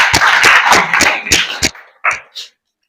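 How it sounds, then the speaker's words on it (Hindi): Short burst of audience applause for Simran, a Kaun Banega Crorepati quiz contestant: about six fast, sharp claps close together, then a few scattered fading claps and silence. "एक बार सिमरन के लिए जोरदार तालियां।"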